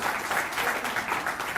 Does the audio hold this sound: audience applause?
yes